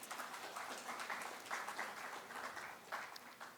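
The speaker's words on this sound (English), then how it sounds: "Let's have a huge round of applause," Audience applause in a conference hall at a national railway modernisation conference, steady moderate clapping from many hands heard somewhat distant and soft throughout.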